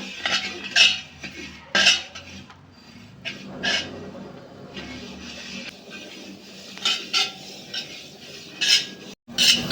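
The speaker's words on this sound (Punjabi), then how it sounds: "ਆ ਗਈ ਸਾਡੀ ਜਵੈਣ ਆਪਾਂ ਭੁੰਨਾਂਗੇ ਜੀ ਉਹਨੂੰ" Ajwain (carom seeds) roasting in a pan, stirred with a metal spoon that scrapes and clinks against it at irregular intervals over a faint background hiss.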